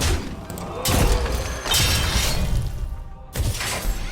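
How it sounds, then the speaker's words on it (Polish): Bombs explode one after another in a digital card game, producing shattering, crashing bursts with booming low thuds, loud and dense, broken by a brief quiet gap near the end. "Boże, jak te fatalnie bomby siadły"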